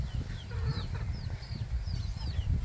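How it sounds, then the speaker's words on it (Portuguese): Chicks in a renovated rural chicken coop give thin, high cheeps in scattered bursts, faint and moderately near, over a low rumbling background with occasional clucking from adult fowl. "Vou aproveitar aqui para mostrar os pintinhos, pessoal."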